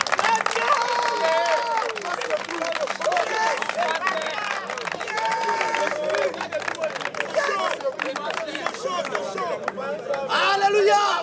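A church congregation cheers and claps at a gospel service: a lively mix of shouting voices, crowd chatter and scattered clapping, loud and continuous throughout, with one voice prominent above the rest.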